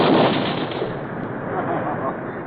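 A sound effect of machine gun fire in an old-time radio war drama comes through as a dense, loud, continuous crackling roar on a muffled, narrow-band recording.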